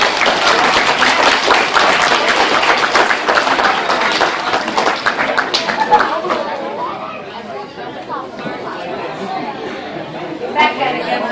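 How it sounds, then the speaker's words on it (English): A middle school audience claps and cheers for students, dense loud applause for several seconds that thins into crowd chatter and scattered claps. "let's give them one more round of applause"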